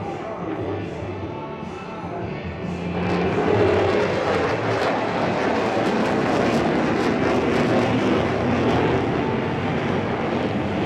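An F-22 Raptor fighter jet roars through an airshow display at the Singapore Airshow, a broad, rumbling jet noise that swells louder after a few seconds and holds steady, heard from a distance with wind buffeting the microphone.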